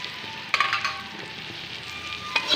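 Spices and garlic sizzle softly in a hot pan while being stirred, with a steady frying hiss broken by a few sharp scraping clinks of the spoon against the pan.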